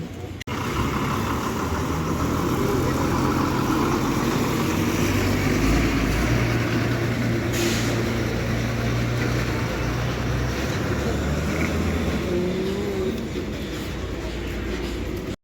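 Idling bus engines fill a KSRTC bus stand in Muvattupuzha, Kerala, with a steady, loud low rumble that holds unbroken for the whole stretch, with no talk over it.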